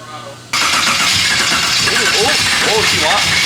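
A 6.2-litre LS3 V8 swapped into a BMW E46 cranks and fires up abruptly, settling into a loud, rough, steady rumble close to the car, with people talking over it.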